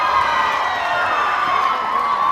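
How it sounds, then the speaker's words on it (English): A crowd at a high school varsity boys basketball game between West Rutland and Proctor cheers loudly after a made three-pointer, a sustained roar of voices across the brief moment. "Draws a smile and a huge cheer."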